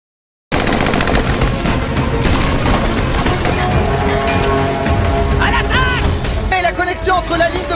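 Bursts of enemy gunfire crack and rattle through a war film battle, loud and continuous, with dense overlapping shots, booms and mechanical clatter; voices call out near the end over the din.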